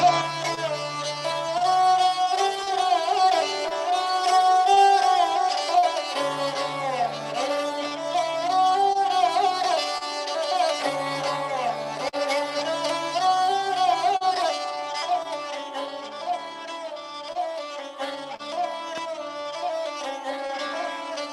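Sarangi playing a happy melodic tune, bowed strings with rich ringing sympathetic resonance and sliding ornamented phrases, steady and continuous over a low sustained drone, close and clear with no talking.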